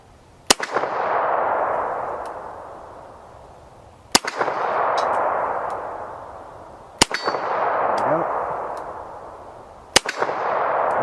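Four sharp Walther P38 pistol shots ring out at outdoor target practice, each crack spaced a few seconds apart and followed by a long fading echo.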